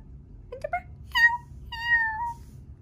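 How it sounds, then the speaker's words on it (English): A cat meows twice in quick succession, clear and close, its calls rising and falling over a low background hum in an indoor home. "that's how she meows"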